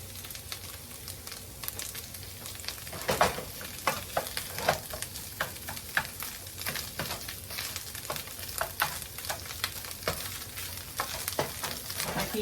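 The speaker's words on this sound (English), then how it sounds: "My heat is still on high, that's why this stuff is going to start popping everywhere." Cauliflower rice sizzling in a pan over high heat, a steady close fry broken by frequent sharp pops and crackles scattered throughout, with no talking.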